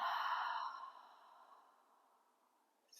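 A single long breath is pushed out through the mouth during a yoga session. It is soft and airy, strongest at the start and trailing away over about two seconds.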